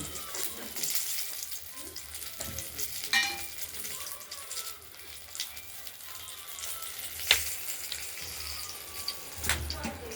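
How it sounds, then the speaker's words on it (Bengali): Bay leaf, dried chilli and black cumin tempering in hot oil for a Bengali fish curry, a low steady sizzle with intermittent clinks and scrapes of stirring, fairly close and quiet, with no talking. "এবার ফোড়ন দিলাম তেজপাতা লঙ্কা আর কালো জিরে দেবো।"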